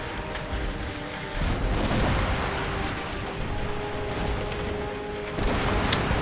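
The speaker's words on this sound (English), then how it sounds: "He's firing his shots into nothing" Ship cannons fire in a naval battle in the Rise of Venice strategy game, with booming shots rolling over continuous dense battle noise and a few sharper reports standing out.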